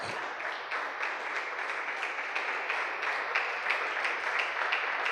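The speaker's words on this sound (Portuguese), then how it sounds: "Aplauda o Senhor Jesus nesta noite" A large church congregation applauds continuously, with dense, steady clapping at an even volume and no voices standing out.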